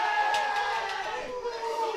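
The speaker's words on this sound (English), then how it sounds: "The Kingsway crowd let him know about it." A suburban football crowd at a Perth Football League final between North Beach and Kingsway reacting after a kick sails off to the side, a sustained mix of jeers and shouts from the stands, steady and moderately loud.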